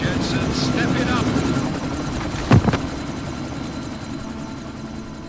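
A helicopter rotor thrums continuously in a combat scene, a loud low chopping drone held steady throughout, with a sharp impact-like burst near the middle.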